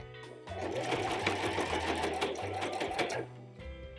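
Domestic sewing machine stitching a denim maxi skirt made from upcycled jeans, running in a fast, steady whirring burst of about three seconds, close and clear, starting and stopping abruptly.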